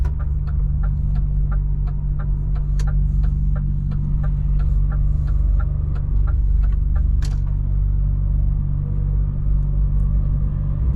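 A refrigeration unit behind the cab of a DAF truck gives a steady, loud, low hum and rumble. A faint, even series of clicks ticks over it throughout.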